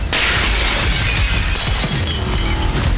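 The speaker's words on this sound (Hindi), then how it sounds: "धमाके के बाद खिड़कियों के कांच टूटते वीडियो में साफ साफ देखे जा सकते हैं।" Window glass shatters and breaks apart after a blast near a building, recorded on CCTV in the Ramat Gan area of Tel Aviv; a loud, close crash of breaking panes fills the whole stretch with scattered tinkling shards.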